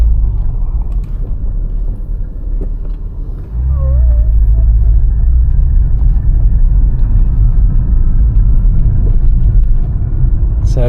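A Porsche 997 in sport mode on a Cotswolds drive, heard from inside as a steady low engine and road rumble that steps up louder after a few seconds and holds a constant drone.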